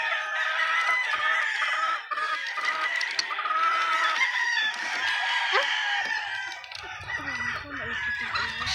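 Several chickens cluck and squawk close by in a coop made from a swimming pool, with a rooster crowing amid the busy, overlapping calls of the flock.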